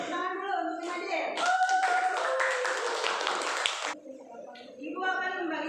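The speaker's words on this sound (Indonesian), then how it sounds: "Beri tepuk tangan dulu untuk Jumadil" A classroom of pupils claps together for a classmate in a short, dense burst of applause, framed by a teacher's voice speaking before and after.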